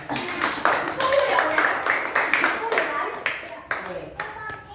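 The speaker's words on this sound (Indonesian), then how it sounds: "tepuk tangan untuk Noel" A small audience claps for a child reciting Bible verses, giving a few seconds of uneven, close-sounding hand claps mixed with voices speaking over them.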